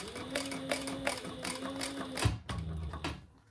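A Bernina sewing machine stitching a crossbody bag, a close, steady mechanical whir with rhythmic needle clicks that stops abruptly, followed by a few separate clunks.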